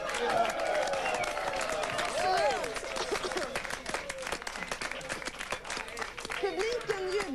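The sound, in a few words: audience cheering and applauding on a TV show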